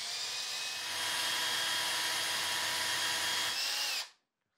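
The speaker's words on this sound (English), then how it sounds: "I'm gonna take my drill now and I'm gonna place it into the hole and I'm just gonna drill it out." A power drill boring out a hole in a cabinet door, a loud steady high-pitched whine held for about four seconds and then stopping abruptly.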